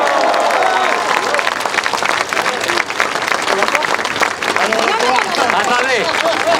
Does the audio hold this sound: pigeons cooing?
no